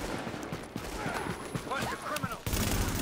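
Rapid gunfire bursts in the shooter game The Division, in a firefight with criminals on the streets of Stuyvesant, crackling steadily under shouted talk with a louder burst near the end.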